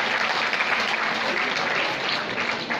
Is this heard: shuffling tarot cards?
no